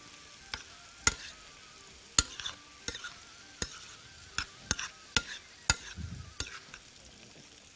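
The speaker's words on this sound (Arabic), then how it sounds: "نقلب الفراخ" Chicken cubes being stirred in a frying pan: a steady sizzle broken by sharp scraping clacks of the spoon every half second or so, close and fairly quiet, with no talking.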